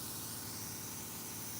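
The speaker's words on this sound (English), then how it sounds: "And then when you go to spray again" A continuous, even hiss of a spray gun blasting 2K epoxy paint onto a 1984 Cutlass hood, loud and unbroken throughout.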